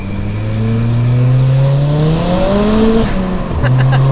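A 310 bhp Ford Fiesta ST accelerates hard and close up, its engine note climbing steadily through the revs before a brief dip at a gear change and a renewed pull.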